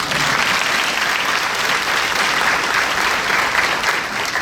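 Sustained audience applause at a high school senior graduation ceremony, a loud, dense wash of many hands clapping evenly without pause.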